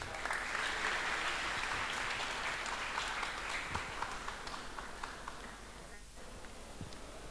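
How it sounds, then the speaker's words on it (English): Guests at a synagogue's 160th anniversary celebration in Pune applaud during a felicitation, a dense patter of many hands that is strongest at first and gradually thins toward the end. "Loud round of applause."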